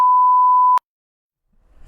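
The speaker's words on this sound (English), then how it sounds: "We had to beep that" A steady censor beep covers speech in a local news analysis programme, lasting under a second and cutting off sharply, then near silence and faint low noise.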